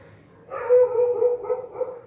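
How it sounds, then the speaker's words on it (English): Street dogs bark and whine in the distance, a drawn-out muffled yelping that rises and falls over a quiet background. "you can hear the street dogs, can you?"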